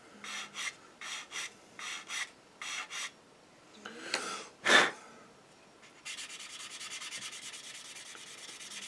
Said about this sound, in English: I'll just give it a go over with a coarser sander. Just removes the material faster.